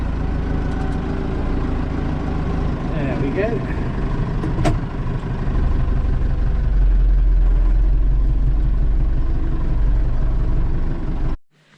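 A tractor engine idles with a deep, steady rumble throughout, growing louder and heavier in the second half, while someone speaks briefly over it.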